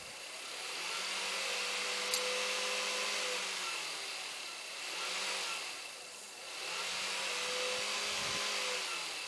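A school bus fan motor runs with a steady whirring hum that swells and dips in speed, faint hums rising and falling over a constant airy rush, with no talking.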